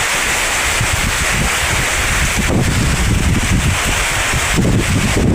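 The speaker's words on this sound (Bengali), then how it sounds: "আমি প্রচুর ঝড়ের ভিতরে দাঁড়িয়ে আছি এবং প্রচুর বাতাস হচ্ছে" Strong storm wind in Nowapara gusts hard against the microphone, a loud, continuous buffeting roar with surging rushes, mixed with the wash of heavy rain.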